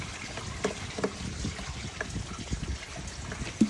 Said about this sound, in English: When you run the tank out of water, sometimes the flushometer gets stuck open.